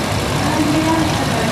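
A small Farmall Cub tractor engine running as it drives along, a low steady rumble with a faint tonal hum, fairly close and continuous.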